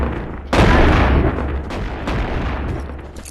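A modded shotgun firing in the VR game Animal Company: one loud, close blast with a booming low end that slowly decays, followed by fainter, softer reports.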